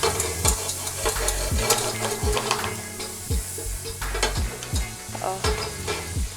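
Butter and egg being beaten and stirred in a pan, a steady sizzle under repeated clinking, scraping strokes of a utensil against the pan, close and moderately loud.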